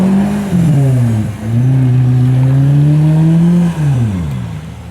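A car engine revs hard and steadily for several seconds, pitch rising and holding, with a brief dip before climbing again and then falling away, loud and close with no talk over it.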